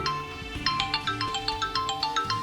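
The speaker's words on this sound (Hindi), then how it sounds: "ले भाई, आ गया चौधरी सिकंदर का फोन" Phone ringtone of an incoming call rings out in a domestic drama scene, a bright repeating melodic pattern of short tones over a low musical bed, steady and fairly loud with no talking.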